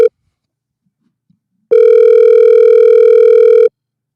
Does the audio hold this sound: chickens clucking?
no